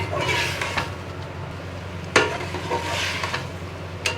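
Minced keema fries in a pan with onion, garlic and ginger, a steady sizzle with occasional sharp clinks of a spoon against the pan.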